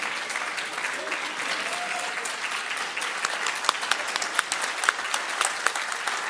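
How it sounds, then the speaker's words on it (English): An annual meeting audience gives a round of applause, a continuous dense clapping of many hands with sharper individual claps popping out, a voice faintly audible early on. "please stand up so we can all share a round of applause"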